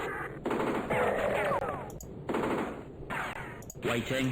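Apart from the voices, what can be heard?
machine gun fire in Spellcross video game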